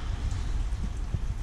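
Steady rain falling on a heated driveway in Buffalo, NY, on a chilly evening, a continuous dense patter of drops close by with no voices.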